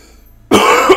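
A single sudden burst of coughing breaks out of near silence midway, harsh and close, lasting to the end with a second throaty hack near the finish, with no talking.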